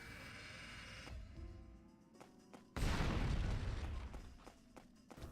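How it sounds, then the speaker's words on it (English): Mines explode in the Phantom Dust video game, with a sudden loud blast partway through that fades into a rumbling roar, following earlier softer clicks and pops. "walking where the radius starts and turning around. This triggers most mines to explode."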